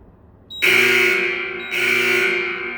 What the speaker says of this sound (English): at the 2-minute mark, it's always good to give 2 beeps of the horn